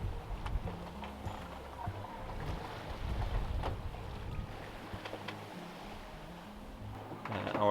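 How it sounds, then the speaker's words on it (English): Sailboat crossing the Bay of Biscay under steady wind, with a continuous rumble of wind and waves against the hull, moderate and even throughout. "The waves are a bit more calm now, I would say, and the winds are very consistent"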